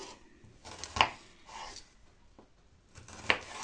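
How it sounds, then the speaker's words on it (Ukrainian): A knife chops an onion on a cutting board in a few sparse, crisp strikes with quiet pauses between them. "Зараз ми маємо з вами подрібнити луковицю, а також нарізати."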